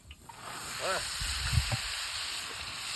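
Chicken drumsticks hit hot oil in a frying pan, setting off a steady hiss of sizzling with a few soft thumps and bubbling pops. A brief voice sounds over it.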